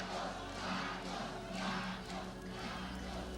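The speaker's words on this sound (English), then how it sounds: "Thousands of loyalists cheering the failing dictator" Thousands of Marcos loyalists cheer at the presidential palace in Manila, a dense, steady roar of many voices that sounds faint and somewhat distant.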